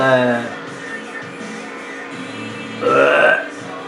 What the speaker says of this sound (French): Et rote pas, c'est impoli.